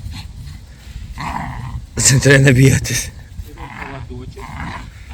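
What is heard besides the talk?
jagdterrier dog growling while playing tug with rope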